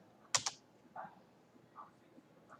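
A few quiet keystrokes on a computer keyboard while installing a DNS server package on Debian: two crisp clicks close together, then several softer, spaced taps, with no talking.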